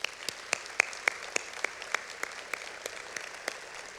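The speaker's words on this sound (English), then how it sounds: "Let's give these individuals a round of applause." Scattered, sparse clapping at a university communication college's 50th anniversary gala, individual sharp claps spaced out over a quiet room rather than a full ovation, fairly distant and moderate in level.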